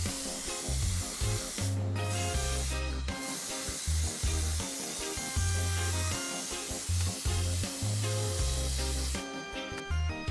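An airbrush sprays desert yellow paint onto an Alien Queen chestburster model kit. It gives a soft, steady hiss that sits low beneath rhythmic background music.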